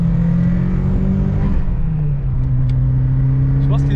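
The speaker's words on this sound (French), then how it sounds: "Ah, le turbo quand il charge." Ford Escort RS Cosworth rally car accelerating hard as its turbo spools, a loud, close, sustained engine drone with a steady rising whine and a brief dip in pitch midway.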